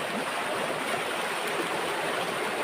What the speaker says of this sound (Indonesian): Dan airnya luar biasa deras arusnya teman-teman.